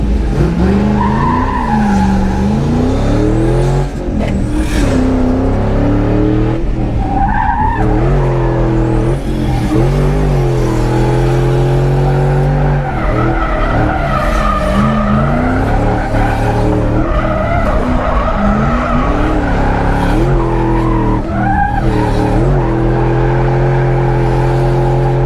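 A Ford Mustang, borrowed for a Formula Drift battle, drifts with loud, continuous tire squeal over a steady roaring engine, the shrieks rising and falling in long waves for about twenty-five seconds with no talk.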